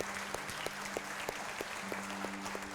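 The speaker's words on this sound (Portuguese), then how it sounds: "Dê um forte aplauso àquele que é digno." A church congregation applauding during a service, a faint, steady wash of clapping with a few sharper individual claps poking through at regular moments and a low sustained tone underneath.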